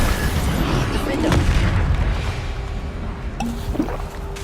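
A Bombarda spell explosion in the video game Hogwarts Legacy: a deep, booming blast with rumbling low-end and a few sharp thumps and crackles, over steady in-game background noise.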